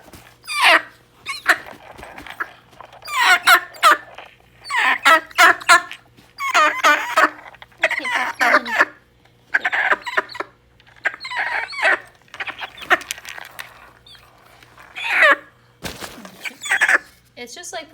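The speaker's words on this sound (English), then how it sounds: "He's squawking a little bit, but he's okay." A pet bird squawks repeatedly in short harsh bursts while being fitted into a sling, loud and close, with brief pauses between calls and low background hum.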